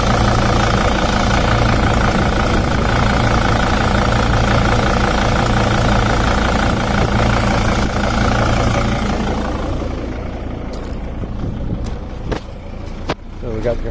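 A 2006 Dodge Sprinter 2500 with a 2.7-liter turbo engine idles with its air-conditioning compressor running, a steady close drone with a faint overlying hum that softens near the end, with voices present in places.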